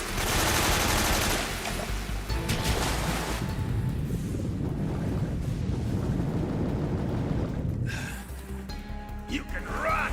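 Grenade explosions in Metal Gear Solid 3: Snake Eater, heavy booming blasts with rumbling, crackling debris that carry on for several seconds, loud and dense, with game noise and a brief gap near the end.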